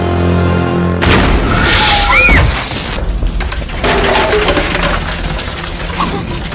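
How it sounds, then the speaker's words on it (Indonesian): A sudden loud boom erupts amid gunfire and missile strikes hitting a house, followed by crashing debris and rumbling, with a whistling streak and further blasts in a chaotic, explosive barrage. "dengan ratusan tembakan ditambah dengan beberapa serangan misil yang menghantam rumah Martin"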